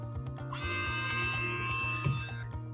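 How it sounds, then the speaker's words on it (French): Battery-powered pump on a solar garden shower switching on: a high, buzzing motor whine runs for about two seconds over low rhythmic background tones, close and with no talk. "d'allumer la pompe sur batterie"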